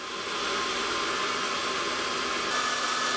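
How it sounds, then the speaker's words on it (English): A hair dryer blows air into a cheap homemade charcoal forge, giving a steady, even whooshing roar that holds constant from start to finish, with no voices. "There's definitely air flowing into the hairdryer, so I guess it's got to be coming out, right?"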